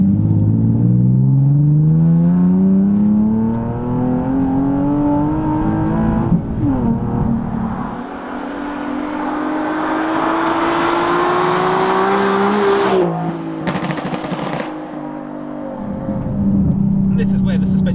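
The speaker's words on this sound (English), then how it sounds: "how loud this car is" A Nissan 370Z Nismo engine drones loudly from inside the car while driving, with a steady rising pitch through the gears, a brief dip, then a sharp rev and shift change near the end; talk is faintly mixed under the engine.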